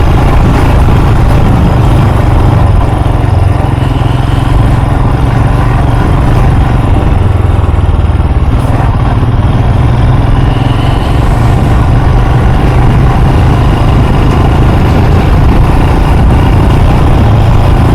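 Two Royal Enfield Himalayan motorcycles ride a sodden, muddy trail, their engines droning loud and continuous with mid-pitched chugging and some buffeting, no talk heard.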